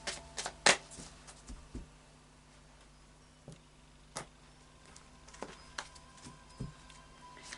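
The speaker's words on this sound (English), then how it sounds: "Now, final shuffle of the Tarot of Dreams." Tarot of Dreams cards are shuffled close by, with quiet riffling and soft taps at irregular intervals, one louder snap near the start, and no talking.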